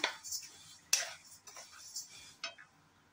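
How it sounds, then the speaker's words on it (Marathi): Urad dal dry-roasting in a pan while being stirred, with a few sharp clinks and scrapes of the spoon against metal over a faint rattle of lentils, close up, with no talk. "ही उडीद डाळ पण आपण खरपूस अशी भाजून घेऊया."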